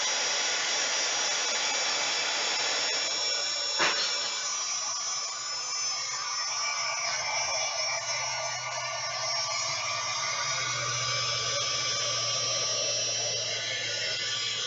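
A hair dryer blows steadily on paint over beeswax-coated playing cards, a loud continuous airy roar that holds nearly unchanged throughout, with one brief click partway through.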